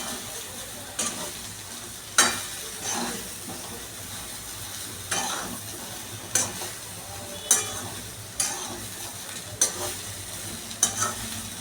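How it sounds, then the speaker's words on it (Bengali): Cauliflower, carrot, potato and pea curry with spices being stirred in a pan, a steady sizzle broken by repeated scraping spoon strokes at irregular intervals, close up and without speech. "দিয়ে আমি এটাকে আবার নাড়াচাড়া করে নিচ্ছি।"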